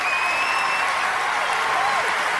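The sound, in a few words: round of applause sound effect on a live stream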